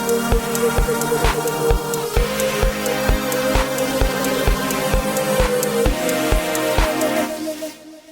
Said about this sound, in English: So first, without the compressor, the EDM dance track sounds like this.